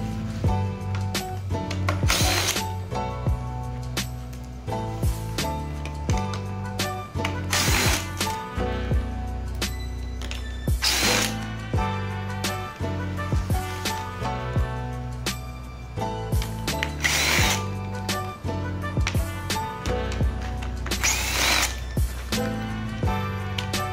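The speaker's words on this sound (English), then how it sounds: "So now we're going to remove all these screws from here." Power drill backing screws out of the grille on a 2014 Chevrolet Silverado, heard as repeated bursts of ratcheting mechanical whir over a steady tonal music-like background, with no talking.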